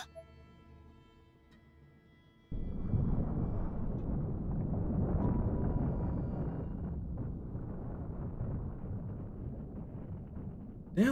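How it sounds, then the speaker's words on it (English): A massive nuke-like explosion in the video game Corpse Party: Blood Drive erupts after a quiet tonal passage into a sustained, deep, rumbling roar that stays loud for several seconds before a final sharp burst. "That was a nuke! Final explosion!"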